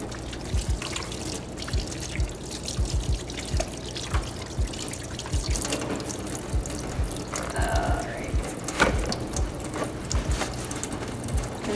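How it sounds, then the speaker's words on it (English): Hands washed under running water at a farm, a steady trickle and splash with rhythmic low thumps and dribbles as the hands move through the stream, close and continuous. "I'm gonna wash our hands."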